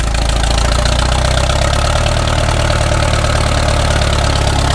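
An old Allis-Chalmers M crawler dozer engine idles loud and close after sitting for years, a steady, even low rumble with a fast knocking throb and no break.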